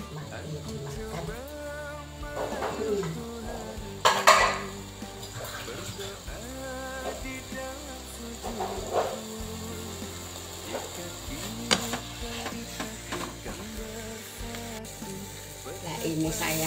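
Grated coconut seasoning sizzles and crackles while being stirred and fried in a pan until nearly dry, with scraping stir strokes and soft clatter, heard close under intermittent background music.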